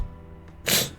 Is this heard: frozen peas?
no